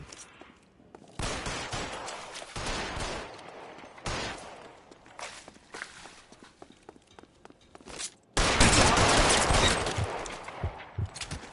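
Shotgun blasts from gunfire in the video game LA Noire ring out as a handful of loud, broad bursts spaced a few seconds apart, with one heavier sustained volley near the end.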